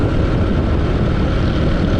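A 2023 Harley-Davidson Heritage Softail with the Milwaukee-Eight 114 engine produces a dense, steady roar on a test ride. It stays constant and loud across the short stretch, with no voices.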